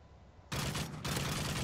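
Sustained automatic gunfire in Modern Warfare 3 on the Wii, a sudden loud burst starting after a quiet moment and continuing with a brief gap.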